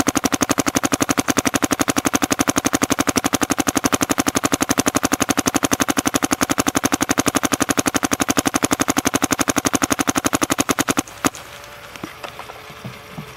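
A DM4 paintball marker fires paint in a long, fast, steady stream of sharp pops for about eleven seconds, then stops abruptly, leaving a few faint clicks and handling sounds.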